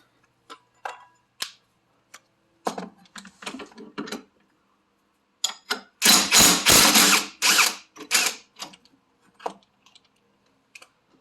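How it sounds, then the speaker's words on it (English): Impact wrench loosening 19 mm strut assembly bolts during teardown of a 1991 Toyota MR2 rear suspension. Scattered mechanical clicks lead into one loud hammering burst of about a second and a half, followed by lighter clicks. "we're just going to break out the impact for this, just to save on time"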